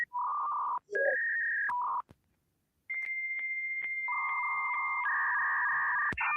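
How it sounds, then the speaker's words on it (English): A dial-up modem connection plays alone, opening with a run of telephone dialing tones, then pauses before long steady handshake tones shift in pitch and layer over each other, clear and close. "Dial-up sound for 10 hours?"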